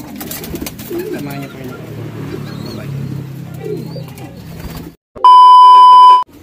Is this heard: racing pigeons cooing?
yes